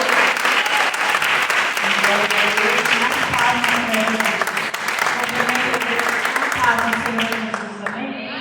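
A church congregation at a prayer-circle service applauds an evangelist, with sustained, loud, crowded clapping lasting several seconds under voices and singing, fading slightly at the end.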